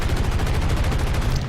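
Aircraft machine guns firing during a War Thunder dogfight with American planes, a loud continuous rapid stream of shots with steady rhythmic pulses over a deep engine drone.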